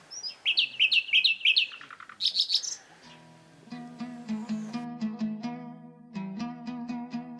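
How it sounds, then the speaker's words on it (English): A nightingale sings from willow branches beside rough spring streams in Kazakhstan, trilling rapid bright phrases up close, then shifting into repeated richer whistled notes. "A nightingale has built its nest in the willow branches, at a safe height unattainable to floods. The bird welcomes the rough spring streams with a joyful song."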